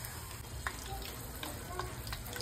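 Raw banana slices fry in a pan with a steady, close sizzle, dotted with faint crackles and soft clinks.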